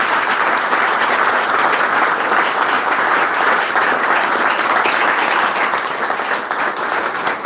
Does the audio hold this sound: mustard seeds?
no